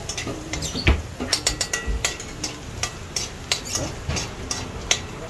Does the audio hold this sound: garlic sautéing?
yes